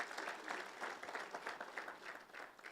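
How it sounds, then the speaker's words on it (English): Applause from a conference audience at an anti-money-laundering Indaba in Eswatini, a soft, distant ripple of many hands clapping in uneven pulses, with no speech over it. "Can we give ourselves a big hand of applause?"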